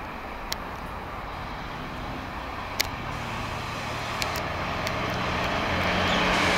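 Rail grinder train on the Doncaster to Hexham working, a broad rumbling roar that steadily builds in loudness as it approaches, with a few sharp metallic ticks, and no voices.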